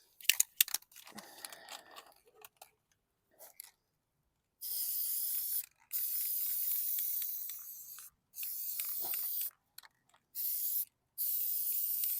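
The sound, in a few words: spray painting a junk lawn mower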